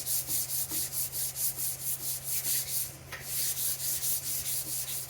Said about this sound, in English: I could do this either dry or wet. I'm going to block it